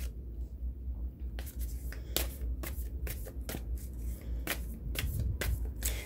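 Tarot cards are shuffled by hand in a quick run of crisp riffles and snaps, close and fairly quiet, repeating irregularly over several seconds with no talking.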